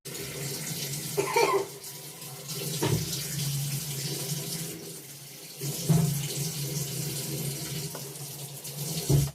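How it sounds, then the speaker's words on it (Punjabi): Tap water runs steadily into a sink while carrots are washed for gajrela, a steady close splashing wash with a few brief knocks and louder surges. "ਗਜਰੇਲੇ ਵਾਸਤੇ ਗਾਜਰਾਂ ਨੂੰ ਇਹਦਾ ਧੋ ਕੇ ਇੱਕ ਸਾਈਡ ਤੇ ਰੱਖ ਦੇਣਾ"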